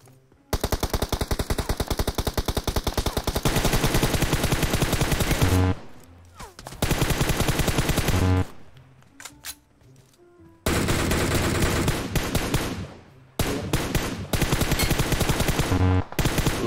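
Automatic weapon fire in PUBG Mobile, loud rapid bursts of gunshots in long sustained strings, broken by short pauses and a couple of quieter gaps.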